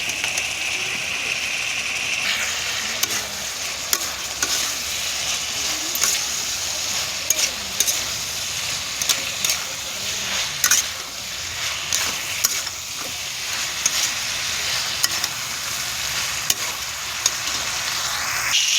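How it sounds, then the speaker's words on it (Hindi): Cabbage and potato fry in a pan at home, a continuous close sizzle with frequent clinks and scrapes of a spoon stirring. "कोबी आलू भजा स्टार्ट कर देली"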